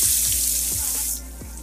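Sliced onion and a bay leaf frying in hot oil give a steady, close hiss that fades slightly toward the end, with a faint low thump repeating about every half second underneath.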